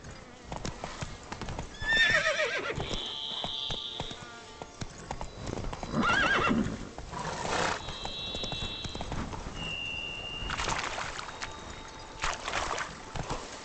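A horse in the video game The Witcher 3 gallops with a steady clip-clop of hooves, joined by whinnies and high tonal game sounds over ambient background noise.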